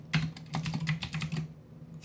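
Computer keyboard keys clatter in quick, irregular bursts as code is entered for a beginner Covid-19 data analysis, a close, steady run of clicks with a low electrical hum underneath and no voice.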